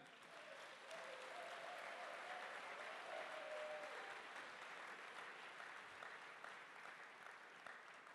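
A church congregation applauding together, a dense sustained wash of clapping that swells and holds for several seconds, heard from a little distance within the hall.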